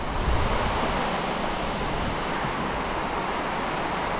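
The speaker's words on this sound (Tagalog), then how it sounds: "Kasi lakas pa ng hangin" Strong typhoon wind roars steadily and loudly, a dense broadband rush buffeting the microphone without letup and with no voices.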